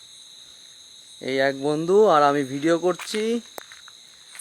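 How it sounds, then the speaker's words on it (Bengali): Crickets chirp steadily at night beside a tea garden and jungle at a resort in the Dooars, a continuous high shrill drone running throughout while someone talks close by in the foreground. "শুধু ঝিঝি পোকার ডাক আর অন্ধকার।"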